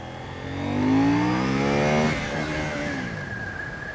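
A KTM motorcycle engine in full-power mode accelerates hard through rising revs to a peak, then eases off into a lower, steady drone, loud and close.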